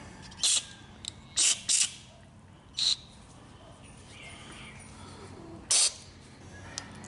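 Short hissing bursts from an aerosol can's straw tube blown into a small engine carburetor to clear the emulsion tubes. About five quick sprays come close together, then a pause and one more burst near the end, over a faint background.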